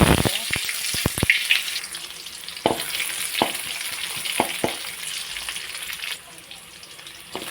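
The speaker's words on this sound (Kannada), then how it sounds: "ಎಣ್ಣೆ ಕಾದ ನಂತರ ನಾನು ಇದಕ್ಕೆ ಸಾಸಿವೆಯನ್ನು ಹಾಕ್ತಾ ಇದ್ದೇನೆ" Mustard seeds frying in hot oil, tempering a clam sukka, crackle over a steady sizzle with sharp, irregular pops that come thick at first and then thin out.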